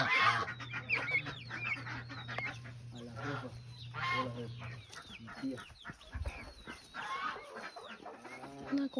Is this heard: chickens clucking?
yes